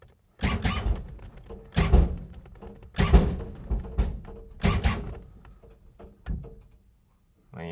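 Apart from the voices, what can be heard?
lowrider hydraulic suspension moving with whammy tank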